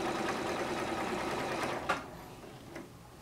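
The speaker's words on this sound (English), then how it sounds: "and you sew forward." A sewing machine sews a seam forward, giving a quiet, steady mechanical whir that stops near the end, followed by a couple of faint clicks.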